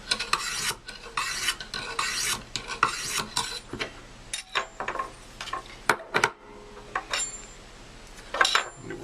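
Rasping, scraping strokes of a Habilis Bushtools Pathfinder trade knife blade drawn across a sharpener, a series of short close swipes in uneven rhythm with brief pauses, no voices.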